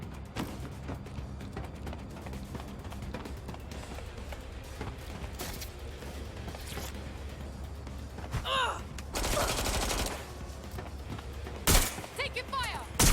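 Gunfire in the video game Watch Dogs Legion: scattered shots and bursts over a steady background, with a louder burst near the end and a loud sharp shot, while voices talk.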